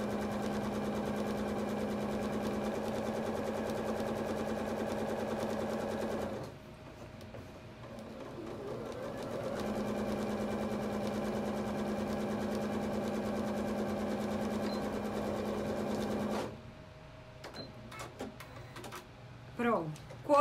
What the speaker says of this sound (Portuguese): eu vou começar a costurar aqui. Retrocesso e vou me guiando pela marcação da máquina